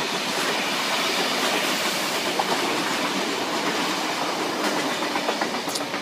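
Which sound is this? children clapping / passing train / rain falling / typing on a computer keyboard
passing train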